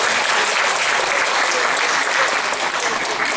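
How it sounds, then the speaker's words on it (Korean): Sustained audience applause fills the room after a redevelopment association's general meeting, steady and dense throughout with no voices over it. "큰 박수 좀 부탁드립니다"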